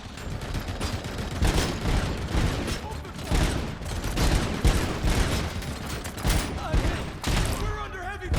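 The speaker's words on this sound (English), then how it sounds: "We're under heavy fire! We need suppressing fire!" Heavy, sustained gunfire in RoboCop: Rogue City: dense overlapping bursts and volleys rattle loudly and without pause, with a brief lull near the end, and shouted voices cut through the shooting.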